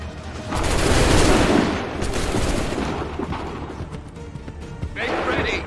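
Musket volley gunfire in Assassin's Creed III, a dense crackling burst of many shots fired together, loud and close, then a rolling tail of scattered reports and battlefield noise, with a later crash near the end.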